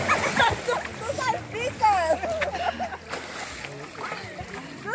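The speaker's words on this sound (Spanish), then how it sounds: "Tú salpicas bien feo" Water splashes around swimmers at a river or pool in Coxcatlán, Puebla, with short irregular sloshes mixed into lively, overlapping talk and a voice.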